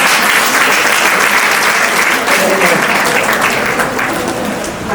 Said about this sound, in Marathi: तर तुम्ही मागवताय ना टाळ्या त्यांच्यासाठी